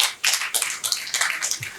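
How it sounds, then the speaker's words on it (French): Applause for Tania at the AGRIFINANCE 2024 closing ceremony breaks out after a brief lull, with a dense, steady patter of many hands clapping that fills the room throughout. "Il faut l'applaudir."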